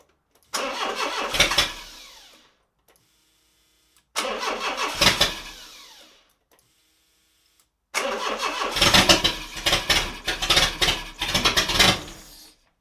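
A Renault Trafic 2.2 engine, newly swapped in, cranks in two short attempts separated by silence, then a third longer crank catches and starts, loud and close with uneven sputtering.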